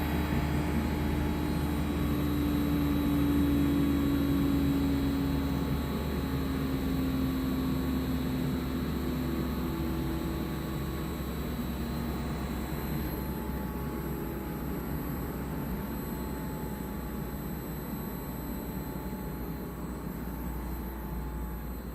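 An LG Dual Inverter window air conditioner running a steady broadband whoosh with a low tonal hum, gradually easing in level as it spins down.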